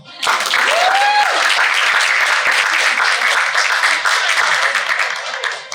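An audience at an evening marketing awards ceremony in Asia breaks into loud, sustained applause that swells quickly and holds steady, with a brief whoop rising over the clapping near the start.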